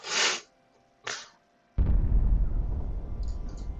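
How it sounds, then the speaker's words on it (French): A nuclear bomb detonates in the sandbox game WorldBox: two short whooshing bursts are followed by a deep, loud rumbling blast that roars on and slowly fades over a couple of seconds. "Bombe nucléaire. Trop de rats, bombe nucléaire."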